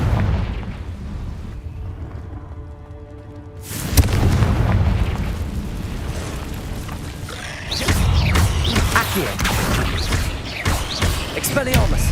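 A Confringo fire spell blasts off in a cave in Hogwarts Legacy, a sudden booming explosion followed by a sustained roaring rumble and further crackling impacts, with a voice speaking in the lead-up.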